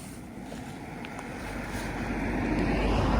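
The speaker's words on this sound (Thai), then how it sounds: "โอ้ยลมมันผัดงาม" Wind sweeps across wheat fields in the English countryside during a bike ride, a steady rumbling rush with microphone buffeting that grows gradually louder, with no talking.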